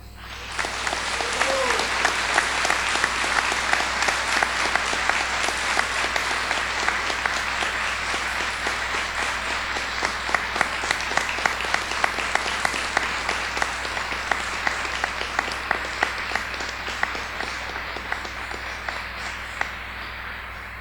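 Long, steady applause with cheering from a graduation audience as a graduate's name is called, dense clapping sustained at full strength across the whole stretch.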